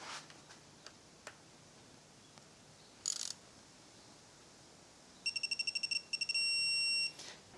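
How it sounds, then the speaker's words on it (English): Several faint ticks, a short high electronic tone, then a rapid series of bright beeps followed by one longer steady beep from a Suzume digital torque wrench reaching 78 inch-pounds on a Miata. "when you see the red light and the beep sound, that means your torque is correct"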